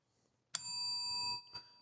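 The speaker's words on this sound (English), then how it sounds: "That's the email bell again." A single bright electronic bell chime rings out for an email notification, clear and ringing for nearly a second before fading, with a faint second tap just after in an otherwise quiet room.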